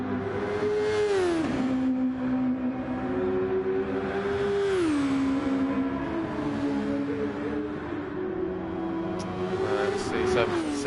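Touring race cars in a DTCC race scream past with sustained, revving engine notes that rise and fall through gear changes, loud and continuous, with commentators talking over the top.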